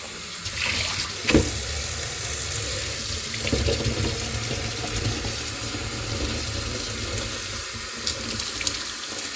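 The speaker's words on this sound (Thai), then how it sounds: "ล้างเห็ดก่อนพี่น้องเอ้ย หยิบมาแล้วก็ต้องล้างนะจ๊ะค่อนๆสะอาดจ้ะเนาะ" Yellow mushrooms are rinsed under a running tap in a sink, a steady close rush of water with splashes and brief louder spurts as the mushrooms are handled, and no voices.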